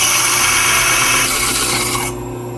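A faceting machine grinds a Madeira citrine gem at a set index, giving a steady loud rasping, rubbing whine that cuts off abruptly near the end, leaving a quieter hum.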